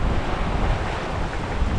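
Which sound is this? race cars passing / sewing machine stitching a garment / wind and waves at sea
wind and waves at sea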